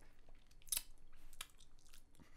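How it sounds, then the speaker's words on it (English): A person chewing food close to the microphone, with soft wet mouth sounds and a couple of sharper crunchy bites, quiet and steady with no talk. "You're still chewing."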